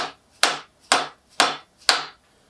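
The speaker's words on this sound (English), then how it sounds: "All right, so give her a couple whacks, just like such." Four evenly spaced hammer whacks ring out close and sharp during an AMC 304 V8 engine build, each a crisp metallic strike that decays quickly, with quiet gaps between.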